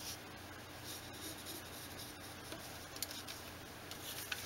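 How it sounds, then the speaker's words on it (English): A pencil scratches and rubs faintly across origami paper while marking the lines of a box-pleating design, a soft, continuous scraping with a few light ticks and taps, quiet and close. "Go ahead and pencil in the boundary for this feature as well."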